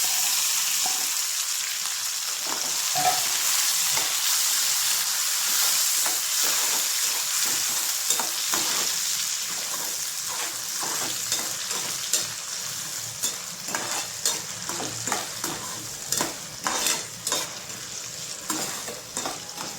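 Onions, green chillies and tomatoes fry in oil for upma, a loud continuous sizzle with frequent spoon scrapes and clinks that grow more frequent toward the end.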